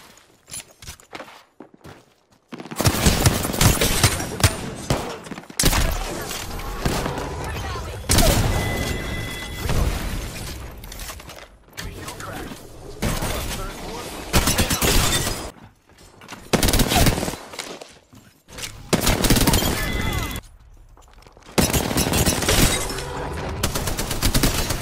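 Intense video game gunfire, loud automatic bursts and heavy shots in repeated waves separated by short quiet gaps, with a voice talking over the action.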